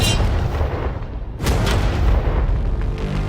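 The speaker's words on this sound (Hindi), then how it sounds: "ये 5 टैंक्स पैसों पर निशाना लगाकर 20 राउंड फायर करने वाले हैं।" A tank fires a shot at an outdoor range, a loud sustained blast with a sharp burst partway through and heavy rumbling that fills the whole short stretch, with no speech.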